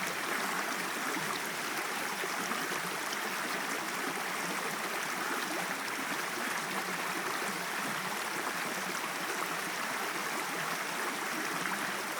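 Quiet, continuous babble of a flowing stream at a confluence of two watercourses in the Pyrenees, even and unbroken, heard from a short distance with no voices.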